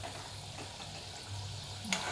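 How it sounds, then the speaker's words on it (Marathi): Bhakarwadi snacks fry quietly in oil, a soft steady bubbling sizzle with gentle stirring from a small spoon and one brief clink near the end, faint and close, no talk. "तळू दे. छोटे चमच्याने मी असं हलवून घेते"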